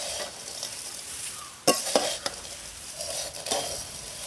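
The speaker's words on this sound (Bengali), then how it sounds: "এবার সব কিছু খুব ভালোভাবে আরেকবার মিশিয়ে নেব।" Spiced flattened rice (chire bhaja) with a little powdered sugar is stirred in a pan: a soft, steady dry rustle broken by several sharp scraping strokes of the spoon against the metal, close and clear with no talk.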